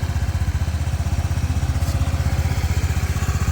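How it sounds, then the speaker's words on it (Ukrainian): A Honda Dio 110 JF31 fuel-injected scooter engine idles steadily with an even, rapid putter, running smoothly and fairly quietly throughout. "Подобається мені, як на хондах працює двигун, дуже тихо."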